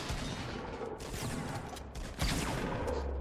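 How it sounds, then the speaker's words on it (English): Bursts of gunfire and explosive blasts from a grenade launcher in a video game, a busy clatter of shots with a heavier boom near the end. "grenade launcher"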